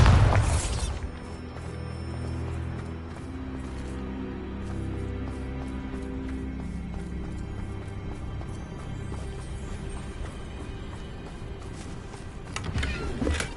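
Bombarda explosion spell in the Hogwarts Legacy video game, a loud booming blast at the start followed by a long rumbling, mechanical-sounding tail and a second swell near the end.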